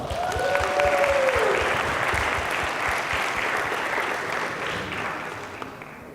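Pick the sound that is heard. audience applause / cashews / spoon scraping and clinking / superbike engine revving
audience applause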